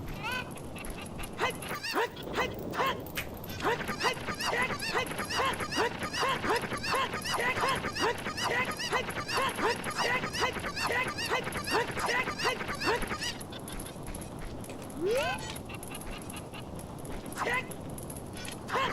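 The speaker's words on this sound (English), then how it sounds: "They add a Bombchu bowling cuckoo to CAC just for the sound without having it actually do anything." A cucco chicken from the Zelda: Ocarina of Time video game clucks in a rapid, steady run of short squawks that goes on for most of the stretch, moderately loud against faint game ambience.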